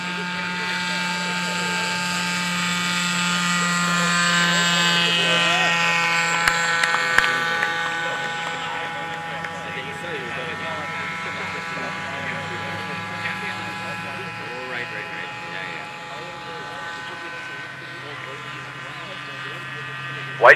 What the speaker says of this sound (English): Whitener had a successful takeoff inside the 400-foot line, and they're coming around on the base leg of their approach